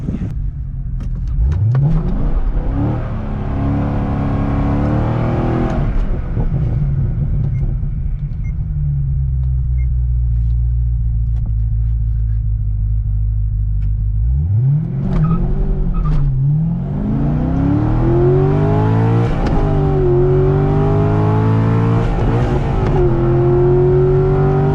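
A 10-speed Camaro launching at a drag strip, its engine roaring loud and close with rising revs through gear changes, settling into a steady rumble before another hard acceleration.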